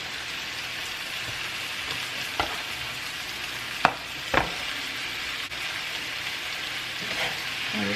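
Green onion and spaghetti squash being tossed in a hot pan, a continuous sizzle of frying with a few sharp clinks and scrapes from the pan and utensil.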